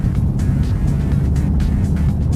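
Peugeot 508 RXH estate, 2013, pulling away in automatic transmission from about 15 mph under added throttle, a steady engine drone heard from inside the cabin, with no talk.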